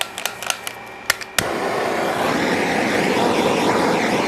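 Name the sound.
propane torch flame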